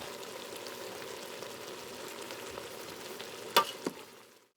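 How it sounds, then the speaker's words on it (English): Vegetables for jambalaya sauté in a pan with a faint, steady sizzle throughout. A brief cluster of sharper utensil clatters comes near the end, then quiet. "So we're going to stop the saute."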